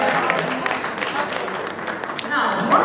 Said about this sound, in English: Please, a round of applause for Mike for sharing that.